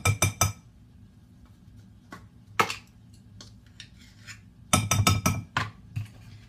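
Dry ingredients, cinnamon, baking powder and baking soda, stirred in a bowl, giving sharp clinks of a utensil against the bowl in quick bursts of three to five taps, separated by quieter pauses, close up.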